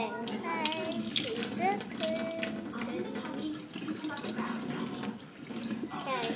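Tap water runs steadily into a sink or basin, a continuous broadband rush lasting throughout, with a voice and other speech breaking in over it.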